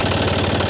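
A John Deere 5310 tractor engine idles out on a road after field harrowing, a steady, even mid-low rumble with a faint knocking pulse, close and continuous through the short moment with no talk.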